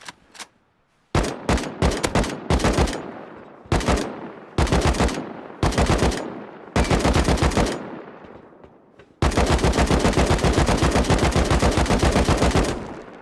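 An assault rifle in the survival game Rust fires close and loud, first in several short automatic bursts with gaps between them, then in one long unbroken stream of rapid shots.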